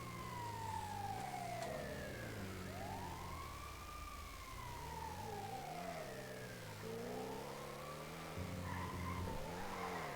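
Ambulance siren wailing in a roleplay video game, sweeping up and down in long continuous glides over steady engine and traffic noise, loud and close throughout.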